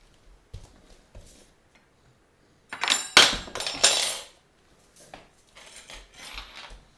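Dishes and silverware are unloaded from a home dishwasher, with sharp clinks and clattering bursts of metal cutlery and crockery between quiet pauses, near and fairly loud in the middle.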